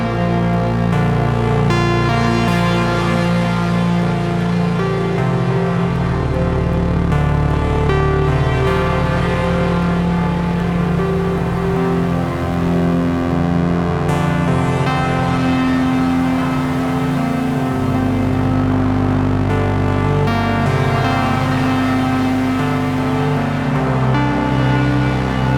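A sustained ambient drone from a Moog Labyrinth synthesizer run through an Afterneath reverb, with layered, shifting harmonic tones and a deep bass that changes pitch every few seconds, steady and full throughout.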